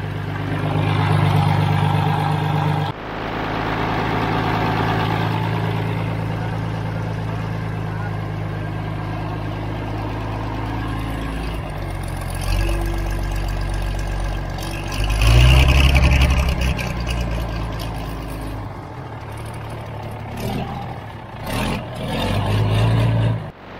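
A neglected Galion T400 road grader with a hydraulic leak runs its engine loudly and steadily up close, with a deep, throbbing drone that swells briefly about two-thirds through before settling again.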